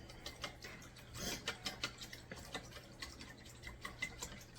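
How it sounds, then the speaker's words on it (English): A whisk clicks and taps against the bowl while a beef sauce is stirred, giving a quick, irregular run of light metallic strikes at close range. "I'm going to whisk it up."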